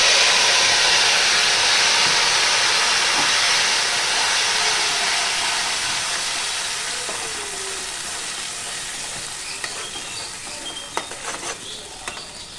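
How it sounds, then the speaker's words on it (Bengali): Spice paste dropped into hot oil in a pan for chhana kofta curry, giving a loud, steady sizzling hiss that slowly fades, with faint stirring scrapes near the end and no talking. "এবার আমি পেস্ট করে রাখা মশলাটা এর ভেতরে আমি দিয়ে দেবো।"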